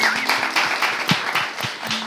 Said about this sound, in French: Qu'on applaudit, on peut l'applaudir.